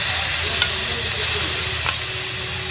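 Sour yogurt added to spices frying in a pan, a loud continuous sizzle with brief bursts of spatter as the mixture is stirred.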